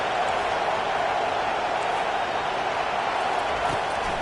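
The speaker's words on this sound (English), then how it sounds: "Listen to this crowd just shaking the girders of this place, trying to help their defense." A stadium crowd at a college football game roars continuously as the home fans try to help their defense, a dense, loud, unbroken wall of cheering that fills the whole space.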